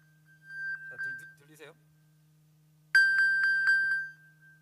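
An iPhone pinged from a paired Apple Watch during a church sermon gives a series of about five bright, evenly spaced chimes, near and clear, after a few softer beeps and a brief voice-like sound over a steady low hum.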